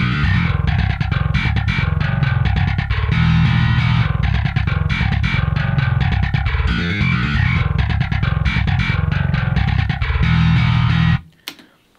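Virtual bass guitar plugin playing a dense, aggressive riff full of shifting articulations, loud and distorted-sounding, continuous for about eleven seconds before cutting off abruptly.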